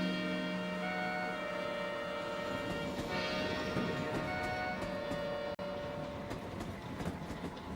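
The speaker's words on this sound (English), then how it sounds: "my train set out from Bombay Central" Passenger train departing Bombay Central, India, a steady rolling rumble with rhythmic clatter of wheels on rails, heard close and continuous for several seconds with no talk.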